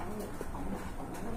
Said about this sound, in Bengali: এটা কিন্তু একবারে গোল শেপের কবুতর।